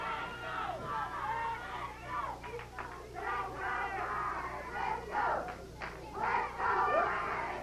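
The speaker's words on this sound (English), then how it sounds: "you can hear the crowd picking up that chant. Let's go, Mike, let's go" A wrestling crowd at a 1984 Georgia match between Brad Armstrong and Mike Jackson chants in rhythmic bursts, a dense mass of voices rising and falling steadily throughout the arena.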